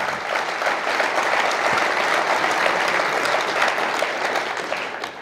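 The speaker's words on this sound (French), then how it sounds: "On n'attend plus que vos applaudissements." Sustained audience applause at an awards ceremony, a dense, steady wash of many hands clapping at even loudness throughout, with no voices standing out.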